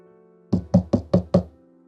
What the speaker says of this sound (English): I knocked on the president's office door with a sliver of hope